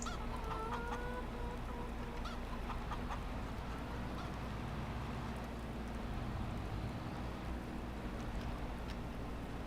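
Chickens clucking in Farming Simulator 25, a few soft clucks early on over a constant low droning background hum, otherwise steady ambience.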